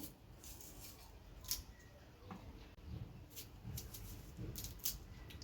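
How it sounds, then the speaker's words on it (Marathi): Knife cutting whole onions into quarters, faint irregular slicing and crunching strokes with soft board taps, quiet and close, no talking. "असेच मी सगळे कांदे कापून घेते"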